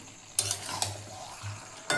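Fried spices are stirred into cooking meat in a pan, a short burst of soft sizzling with a few sharp scrapes of a spoon against the metal, close and fairly quiet.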